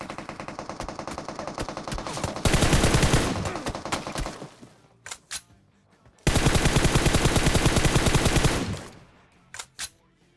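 Automatic gunfire in the mobile battle royale game PUBG Mobile, two long, loud sustained bursts of rapid shots separated by a brief pause, followed by a few isolated single shots near the end.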